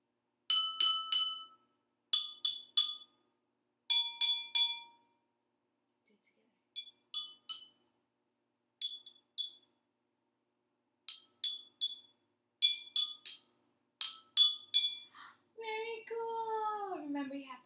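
Glasses filled with blue, red and yellow colored water are tapped gently like a musical instrument, giving bright ringing clinks in short groups of two or three, ending with a rising sung or whistled tone.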